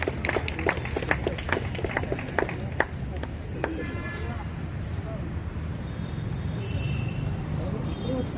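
An audience applauds during a garland ceremony for a Braille portrait at a celebration for disabled people: scattered sharp claps in the first few seconds thin out into faint room noise, with people talking throughout.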